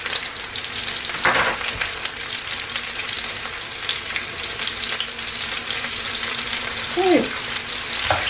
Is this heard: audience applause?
no